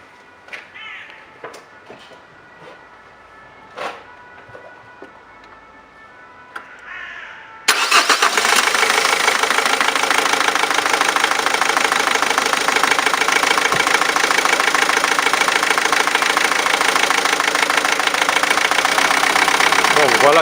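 A Dacia car engine starts after injector cleaning, with a sudden loud crank and catch following quieter clicks and handling noises, then a steady, close, continuous idle drone that holds to the end.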